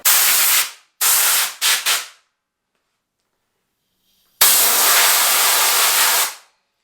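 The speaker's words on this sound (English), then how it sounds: "what I do every day is I just take my compressed air" Compressed air blasts dust out of a Husqvarna chainsaw during routine maintenance: two short hissing bursts, then a quick double puff, a pause, and one longer loud blast, close and alone.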